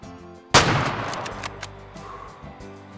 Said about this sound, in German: Schießt man noch Fasan. Top. Schöner Treffer.